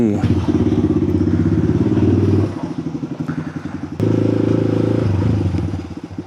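Honda Grom motorcycle engines rumble and throb up close on a city ride in Pattaya, with pulsing revs, rattling and a voice briefly heard under the noise.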